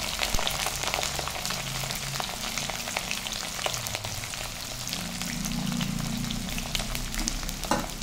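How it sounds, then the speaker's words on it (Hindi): Potato pieces and green chillies frying in oil in a pan, a steady close sizzle and crackle with light stirring, no voices, continuous for several seconds. "अब हम इसमें 1 से 2 मिनट मिर्च, हरी मिर्च, वो भी इसमें फ्राई कर देंगे हल्की हल्की।"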